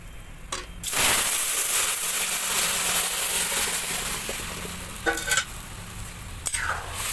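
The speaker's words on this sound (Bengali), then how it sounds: "এবার ডাল ঢেলে দেবো" Lentils poured into a hot pan with bay leaf and cumin erupt into a loud, sudden sizzle that hisses on steadily, with a few clinks of the pan near the end.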